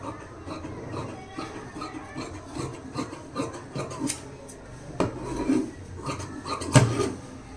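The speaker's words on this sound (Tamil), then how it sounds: "இப்போ நம்ம மார்க் பண்ணதெல்லாம் கட் பண்ணி எடுத்துடலாம்." Scissors cutting blouse fabric along chalk-marked lines, a run of dry rasping snips and rubbing strokes at close range with occasional sharper clicks, no talking over it.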